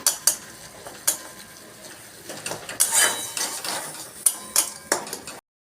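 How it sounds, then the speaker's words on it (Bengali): A spoon scraping and clanking against a pan while stirring prawn malai curry over a medium flame, with sharp metallic knocks at irregular intervals over a soft sizzle, close and fairly loud. "এটা আমি দু তিন মিনিট নেড়ে নিয়েছি"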